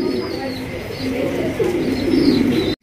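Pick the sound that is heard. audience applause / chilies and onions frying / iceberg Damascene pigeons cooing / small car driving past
iceberg Damascene pigeons cooing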